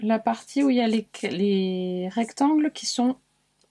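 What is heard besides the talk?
No distinct noise like a dog, phone or traffic.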